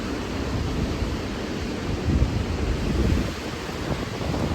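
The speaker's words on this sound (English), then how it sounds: "I hope you can hear us over this wind" Strong outdoor wind buffets the microphone in a steady broadband rush with gusty surges, loud and continuous with no voices.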